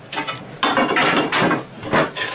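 A Montolit manual tile cutter cutting tile, giving a few harsh scraping and grinding strokes with clattering knocks in between, loud and close with no speech.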